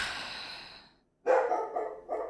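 A small pet dog named Fendi barks indoors in a few close, sharp bursts after a fading earlier sound and a brief silence.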